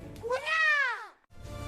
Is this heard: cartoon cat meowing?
yes